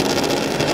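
Rallycross car engines at a race start on the COTA circuit, a loud, close, buzzing drone of revving motors, brief and continuous.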